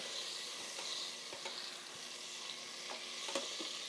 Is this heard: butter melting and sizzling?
yes